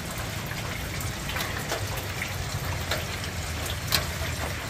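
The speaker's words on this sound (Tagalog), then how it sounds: "Yan yung ulan na ano, na matagal." Steady rain falls on a balcony in front of a house on a cool autumn day, an even, continuous patter and wash with occasional sharper drips, no talk.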